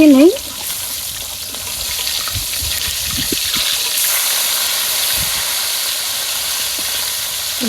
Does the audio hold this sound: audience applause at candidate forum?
no